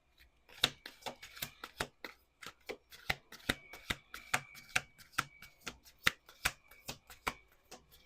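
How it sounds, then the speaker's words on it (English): A deck of tarot cards shuffled by hand, sharp papery riffles and snaps repeating in quick irregular bursts, close up and alone with no talking. "Last shuffle."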